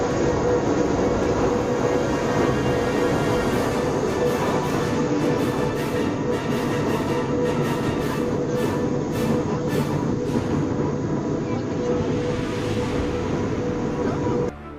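A mountain train on Australia's Kuranda Railway rumbles along continuously and loudly, steady mechanical roar with a whining tone and periodic rhythmic clacks from the wheels.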